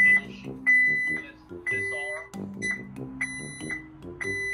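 Repeated electronic beeps from a security alarm keypad during disarming, short tones in irregular bursts with a few longer held beeps, fairly close and clear.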